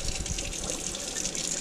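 Water pouring from a tap into a pot of basmati rice, a steady, close gushing rush that holds level the whole time.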